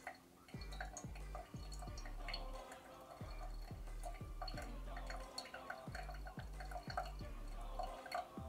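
Steady drips of water falling through pour-over coffee grounds, a regular rhythm of close, soft plinks about two per second over a faint background hiss.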